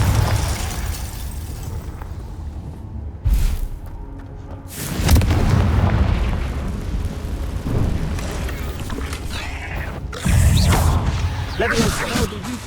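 The Confringo fire-blast spell from the Hogwarts Legacy video game sets off a few heavy booming bursts, with sharp spikes near the start, middle and end over a steady rumbling game backdrop.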